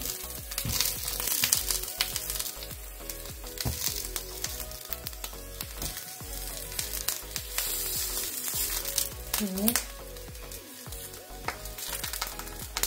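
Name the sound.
eggplant balls frying in a pan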